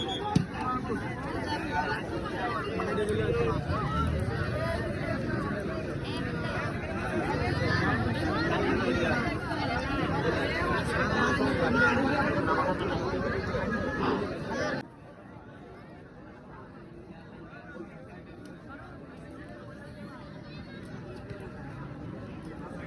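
Spectators at a football match fill the air with a broad, murmuring crowd babble, loud for the first stretch before dropping abruptly to a quieter background hum, with a person talking over it.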